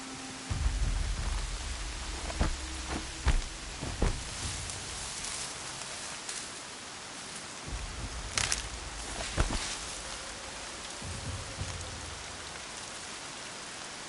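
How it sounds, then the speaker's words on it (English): Steady rain falls in Horizon Zero Dawn as a constant wash of hiss, broken by a few sharper nearby thuds and taps, with no one speaking. "More rain. My boots will get damp."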